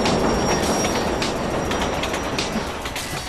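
Subway train in the video game Def Jam: Fight for NY, a loud rumbling roll of rail cars with rattling wheels and faint metallic squeals, steady and close before easing slightly at the end.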